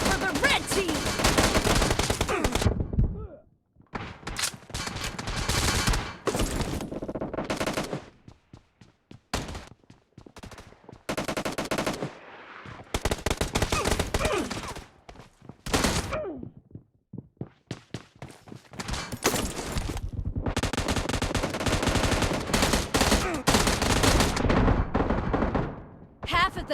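Gunfire rattles through a team shooter video game match in repeated loud bursts of rapid shots, broken by short quiet gaps, with a game announcer's voice now and then.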